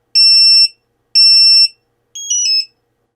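An Eachine Novice IV drone's lost-video warning sounds as two long, high electronic beeps followed by a quicker warbling double-tone chirp, clear and close with silence between.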